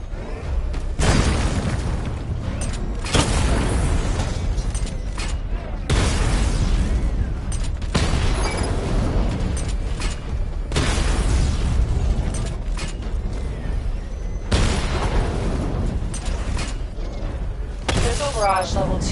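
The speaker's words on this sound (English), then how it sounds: "Charge the missile barrage to level 2 to destroy up to 4 targets at once." Missile barrage explosions in Batman Arkham Knight come as loud, booming bursts that repeat every few seconds. Mechanical rumble and game sounds run between them.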